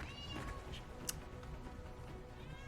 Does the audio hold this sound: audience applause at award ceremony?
no